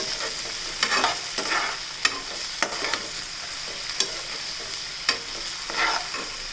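Onions and tomatoes frying in a pan, with a continuous hiss of oil and a regular series of sharp spatula knocks and scrapes against the pan, close and unaccompanied by speech.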